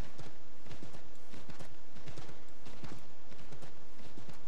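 A horse gallops in the Assassin's Creed III video game, its hooves beating a steady, loud clip-clop rhythm over a dense background of game ambience.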